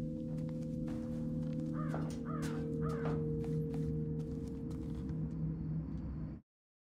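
Three harsh crow caws sound in quick succession inside the Thief video game, heard over a steady low ambient hum that cuts off abruptly at the end.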